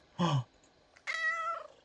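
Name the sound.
cat meowing in the video game Supermarket Together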